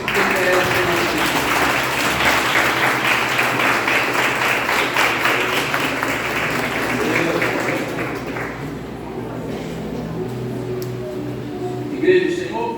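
Church congregation standing to applaud during a worship service, a dense wash of clapping for about eight seconds that thins and fades into quieter room noise, with voices audible underneath.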